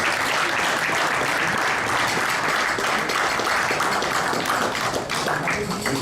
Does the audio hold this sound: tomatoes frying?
no